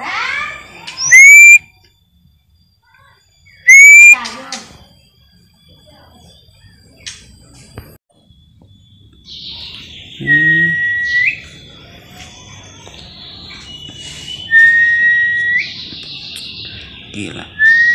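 An albino magpie-robin with red eyes sings loud, clear whistled phrases, first as two sharp separate calls and then as longer warbling runs, with a faint background hum.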